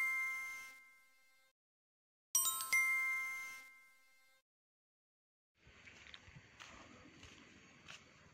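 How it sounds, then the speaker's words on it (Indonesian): An antique telephone bell rings in two sharp bursts that fade away, followed by a softer, rattling jingle of repeated rings. "Ini lonceng ada ring"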